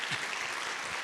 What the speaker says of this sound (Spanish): Así, aplausos, sí, gracias.